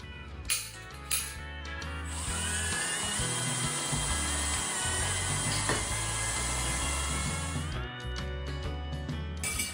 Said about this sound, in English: Time to drill some holes to secure the axle.